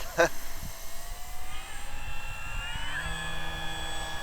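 An FMS Beaver 2000mm V2 radio-controlled model airplane running on a 6S battery drones steadily overhead at moderate distance, its electric motor and propeller whine faintly shifting in pitch, with wind noise and people talking nearby.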